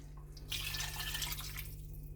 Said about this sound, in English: I'm just going to add another cup of water to this one.